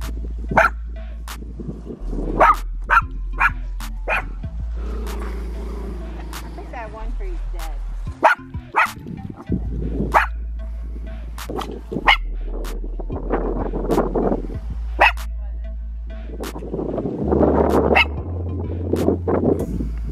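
A new puppy barks close by in a long run of sharp yips and barks, some of them whiny, with short pauses between the bursts.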